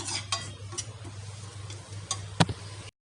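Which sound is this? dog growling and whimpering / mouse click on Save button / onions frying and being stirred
onions frying and being stirred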